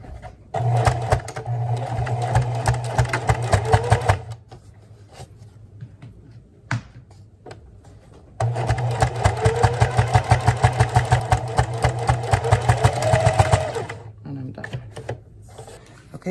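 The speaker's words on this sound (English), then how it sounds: "So I'm just gonna sew it right at the very edge." A sewing machine stitches along the very edge of a DIY fabric wallet in two long runs of rapid, steady needle clatter with a motor hum, separated by a quieter pause, while a person talks.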